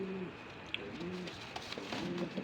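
Pigeons at a pigeon farm coo softly in repeated low rolling calls, fairly near, with faint clicks and shuffles around them and no talk.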